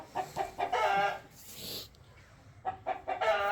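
A young King Lassani breed rooster clucks in short bursts, a quick run of clucks, a pause, then another cluster, heard close and moderately faint.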